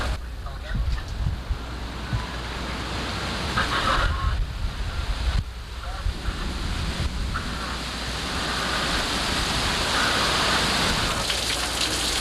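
Heavy rain from a June thunderstorm pours down in a steady, loud, dense hiss that continues throughout, with no thunder heard.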